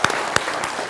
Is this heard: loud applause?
yes